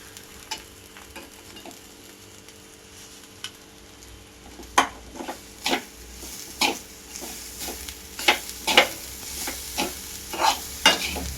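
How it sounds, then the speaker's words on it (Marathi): Jaggery goes into a hot pan and is stirred with a utensil: irregular scraping clinks and knocks over a low sizzle, growing busier toward the end, with no talk. "आपण गुळ टाकत आहोत"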